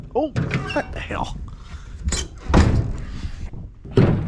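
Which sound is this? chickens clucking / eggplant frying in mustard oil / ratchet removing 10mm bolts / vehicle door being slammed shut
vehicle door being slammed shut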